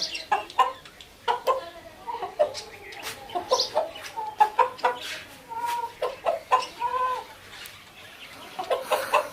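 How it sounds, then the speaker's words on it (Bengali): A rooster and hen clucking close by in a steady stream of short, repeated calls, several birds overlapping, with no talking. "মুরগ এবং মুরগি"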